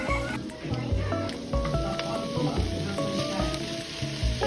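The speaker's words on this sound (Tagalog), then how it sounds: "Dahil may unti pa akong margarine, ginamit ko na rin para panggisa sa ating sibuyas." Onions sautéing in margarine sizzle and crackle steadily with soft popping, under someone speaking throughout.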